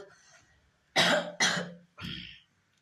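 Three harsh, hacking coughs in quick succession, close and loud, after a few seconds of quiet breathing.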